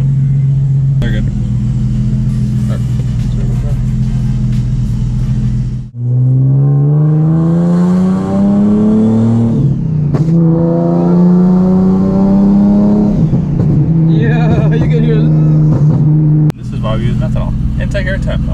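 Big-turbo Nissan 370Z on street boost pulls: loud engine rising through repeated revving climbs, a brief drop between gears and then another hard pull, heard from inside the car with voices talking over it.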